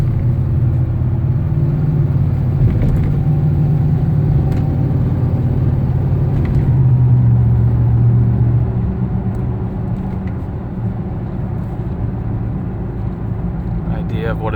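An all-wheel-drive Ford Ranger with a 5.0 engine pulls away in a normal acceleration while towing a Civic, a steady low engine rumble and road drone heard from inside the cab, slightly easing near the end.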